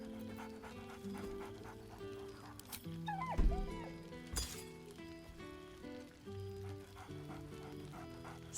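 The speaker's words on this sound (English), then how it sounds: "Scratch barks merrily in something like agreement." A dog in the video game Baldur's Gate 3 pants and whimpers excitedly with a few short yips, close up over steady game music and ambience.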